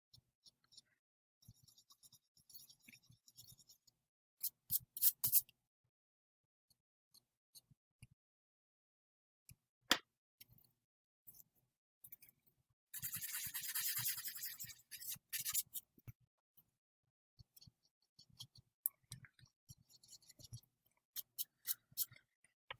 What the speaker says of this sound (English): we're going to erase a bit to create that highlight